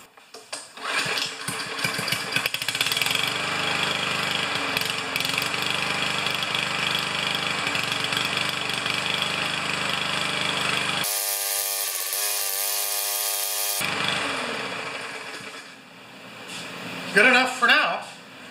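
An entry-level Powermore lawn mower engine with a freshly cleaned carburetor runs loudly and steadily up close. Partway through it gives way to a high whine, then returns before tapering off.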